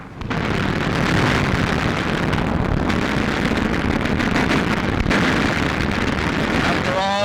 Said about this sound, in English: Watch this explosion. That was a Rocketeer.